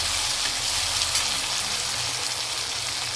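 Small onions and garlic sautéing in a pan for a South Indian tamarind curry, a steady close hiss and sizzle running unbroken throughout.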